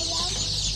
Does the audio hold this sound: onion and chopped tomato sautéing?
no